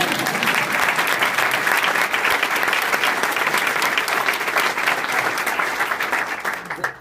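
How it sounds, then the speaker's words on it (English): Loud audience applause, a dense wash of many hands clapping continuously, fading slightly at the end. "I saw you about to applaud. You can go ahead."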